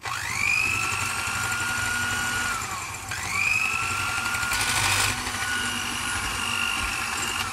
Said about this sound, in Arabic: وندير سكر كلاسي، ونبدا نضرب مزيان